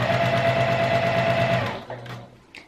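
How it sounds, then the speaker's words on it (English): Domestic sewing machine stitching curved quilt fabric, a steady close whirring hum with a rapid needle chatter that runs for nearly two seconds, then stops, leaving a faint lower hum and a few small handling clicks. "Sorry for the sound of the machine here"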